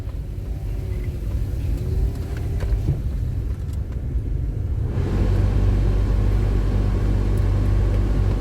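A car driving along a countryside road in St. Elizabeth, Jamaica, with a steady close cabin rumble of engine and tyres that grows heavier and louder partway through.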